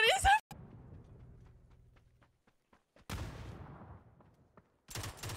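Gunfire in PUBG, a short loud burst of shots at the start and two more close bursts later, each trailing off in a ringing echo, with near silence between them.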